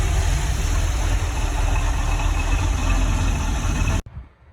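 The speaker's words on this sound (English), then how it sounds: "the boat starts up right away. Sounds pretty good. First crank started right up" An old 1977 Sea Ray boat engine idles with a steady, rough mechanical chug, close and continuous, then cuts off abruptly near the end.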